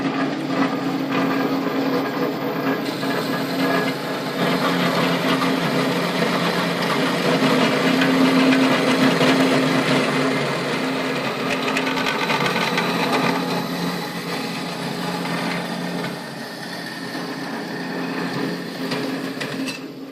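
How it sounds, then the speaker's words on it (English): The end of a Plymouth Valiant's car steering column is cut off to shorten it during a suspension installation, a steady loud mechanical grinding and whirring that runs unbroken for the whole stretch, with no voices. "you make a small cut at the end of the steering column"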